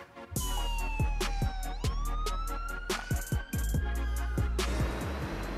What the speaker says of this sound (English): that one definitely had sirens and sounded like a police car